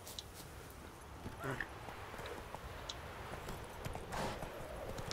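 Horse hooves clip-clop at a steady walking pace in The Witcher 3: Wild Hunt, fairly quiet and close, with soft ambient noise around them.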